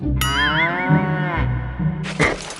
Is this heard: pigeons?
no